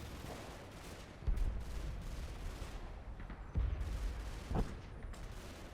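In the Combat Mission WWII game, tank or mortar rounds land amid steady battlefield rumble and crackling fire, with a few dull thumping impacts standing out.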